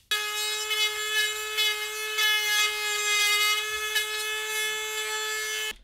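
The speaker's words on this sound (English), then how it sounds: "I'm going to cut all the holes" A power tool cuts holes in a lid to fit a fan, a loud, steady high-pitched whine that holds unbroken for nearly six seconds with slight wavers.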